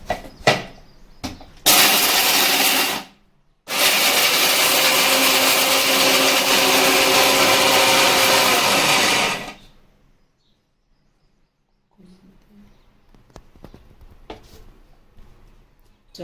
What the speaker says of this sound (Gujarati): તો હવે આપણે એને મિક્સરમાં પાવડર બનાવી લેવાનો છે.